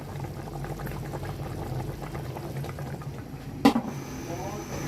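A pot of yakhni stock for pulao bubbles over a strong fire among other cooking pots on Eid in Kuwait, a soft steady simmer with one sharp clatter near the end.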